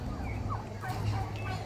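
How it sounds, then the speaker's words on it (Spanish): A turkey hen gobbles in short warbling bursts outdoors, fairly close, over a low background hum with brief faint voices. "Y miren mi chumpa, gran"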